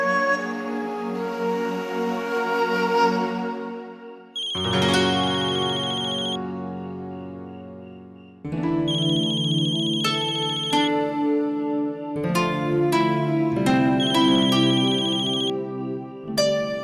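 A telephone ringtone plays loudly and alone, a bright electronic melody repeating in several phrases with short gaps between them.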